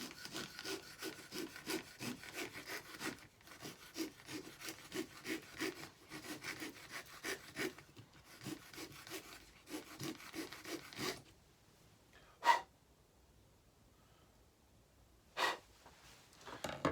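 Triangle file rasping inside a fly rod handle, heard as quick rhythmic back-and-forth strokes, close and moderately loud, that stop after about eleven seconds, followed by near quiet with a couple of isolated knocks.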